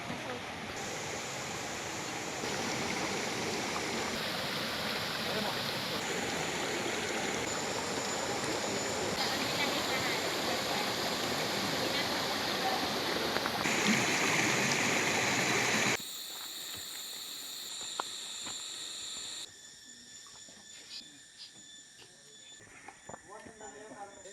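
Loud, steady rush of a flowing river on Mount Labo, Camarines Norte, fills most of the clip, then drops to a quieter, thinner trickle with a few faint clicks near the end.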